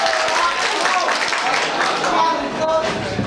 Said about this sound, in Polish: No proszę o brawa, dziękowanie.